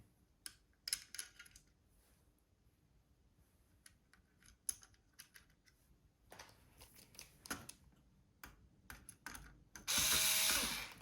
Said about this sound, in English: Screw them back in.